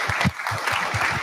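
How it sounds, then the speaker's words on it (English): A seated audience gives a speaker another round of applause after a pitch competition talk: a steady, dense wash of many hands clapping throughout, with no talking on top. "One more round of applause for David"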